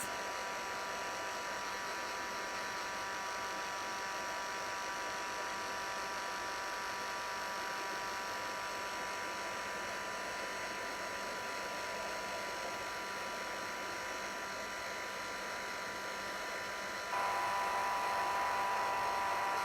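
A heat tool blows steadily on puff paint for craft tags, a constant whirring hum that shifts slightly higher and louder near the end as the heat is turned up.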